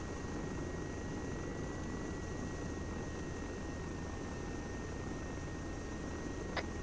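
Helicopter flying in the ArmA 3 military game, a loud, steady, continuous rotor and engine drone with a faint whine, unchanging throughout and no talk.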